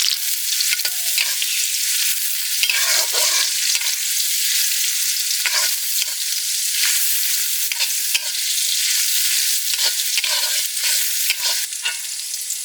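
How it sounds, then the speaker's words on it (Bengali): Garlic, onion, green chili, cardamom and cinnamon frying in oil in a village kitchen, a loud continuous hiss of sizzling close by, with scraping stir strokes throughout and no voices. "এই যে সবটা ছেড়ে দিলাম তেলের উপর। রসুন, পেঁয়াজ ও বা কাঁচা ঝাল, এলাচ আর দারচিনি"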